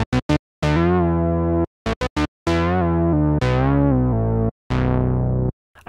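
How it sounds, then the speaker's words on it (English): A Moog-style synth on an Arturia plugin's default preset plays alone, bright sustained notes with rich harmonics in a halting sequence of short stabs and longer held tones with brief gaps between them. "There's also this really cool Moog sound that comes in."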